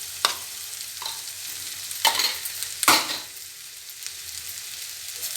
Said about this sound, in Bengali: সাবুর সঙ্গে ভালো করে নাড়িয়ে নিচ্ছি।